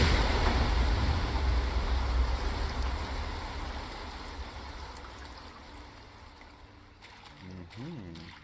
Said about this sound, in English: Hidden behind the waterfall?